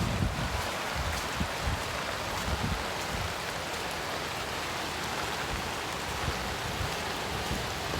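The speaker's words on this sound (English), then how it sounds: "clearly there's too much water coming through" Floodwater roars through an overflowing stream above a submerged culvert during flooding and tornado weather, a dense, steady rushing wash that stays loud and close for the whole stretch, with no voices.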